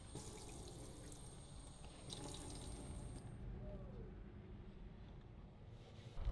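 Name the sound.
water running from opened taps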